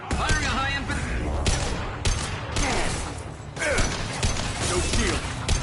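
Heavy sci-fi weapons fire in a Battlestar Galactica video game, dense bursts of loud impacts and mechanical clatter repeating across the whole stretch, with a few speech-like fragments mixed in.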